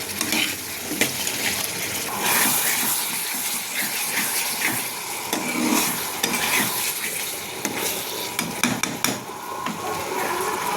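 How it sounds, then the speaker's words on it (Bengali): Spice paste for a boal fish curry sizzles and fries in hot oil while being stirred steadily, with scraping strokes against the pan continuing throughout, close and fairly loud, with no speech. "ভালো করে কষাতে হবে মশলাটা"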